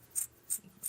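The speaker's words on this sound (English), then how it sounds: "just take your scissors and go through the loops and just start snipping" Scissors snipping through cut yarn loops, three short crisp snips spaced evenly, faint and close with no voices.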